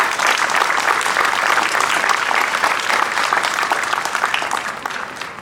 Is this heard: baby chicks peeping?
no